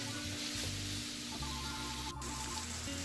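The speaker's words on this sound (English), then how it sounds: "in a skillet over medium heat, go ahead and brown a pound of hamburger and some chopped onions" A pound of hamburger and chopped onions browning in a skillet over medium heat, with a steady, close sizzle and crackle that holds without a break.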